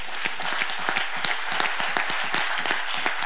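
A church congregation applauds and cheers for a general in a steady burst of dense clapping that fills the whole stretch, close and loud with no speech over it.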